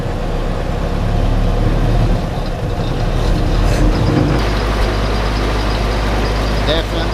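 A CJ2a Jeep engine that smokes and still has moisture in it runs loud and close, its steady heavy rumble given a little throttle, with no talk over it.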